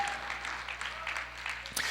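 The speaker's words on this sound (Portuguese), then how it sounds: "Uma salva de palmas para esses dois jovens lindos aqui." Applause from a church audience for a pair of young twins, a soft, steady patter of clapping lasting a couple of seconds, fairly quiet and slightly distant.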